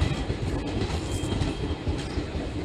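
A Malwa Express train hauled by a rebuilt WDM3A diesel locomotive rolls past close by, a loud continuous rumble of wheels and carriages with steady rail clatter and no voices.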